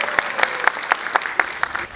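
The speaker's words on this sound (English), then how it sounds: "Can we give them a big round of applause?" A kindergarten annual day audience claps in an even, rhythmic beat, with crisp unison claps about four times a second over a bed of scattered clapping, close and loud.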